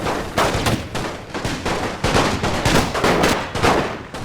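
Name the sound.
artillery fire destroying a town in a video game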